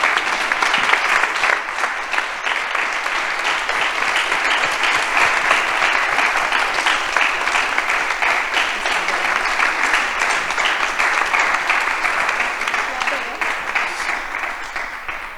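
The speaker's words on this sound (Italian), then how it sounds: "io chiedo a tutti un grandissimo applauso a questi 15 sceneggiatori bravissimi." Sustained, dense audience applause fills an award ceremony for screenwriters, steady and loud from start to finish with no voices on top.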